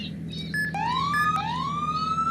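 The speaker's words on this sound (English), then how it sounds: "we're gonna check the sirens" Police car siren from the video game ERLC, rising electronic wails sweeping upward twice, loud and close over a steady low engine hum, with no talking.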